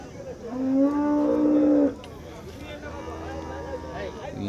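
A cow moos loudly and close by at a cattle market in Chintamani, one long drawn-out call followed by quieter background market ambience with faint activity.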